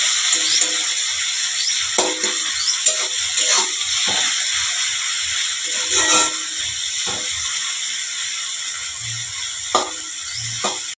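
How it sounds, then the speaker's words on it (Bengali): Onions fry in a pan with salt and turmeric, giving a steady bright hiss broken by scattered sharp crackles and pops throughout, with no talking. "চলুন ভালো করে পেঁয়াজটাকে এবার ভেজে নিই।"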